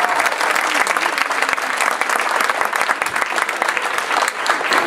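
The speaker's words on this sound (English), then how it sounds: "let's give one more round of applause for all of our wonderful volunteers" Sustained, dense applause from a theater audience honoring volunteers at a community theater awards event, loud and steady throughout with no pause.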